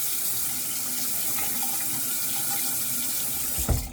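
Water runs steadily from a tap to wet a shaving brush at a sink, a continuous close hiss throughout with a brief splashy burst near the end.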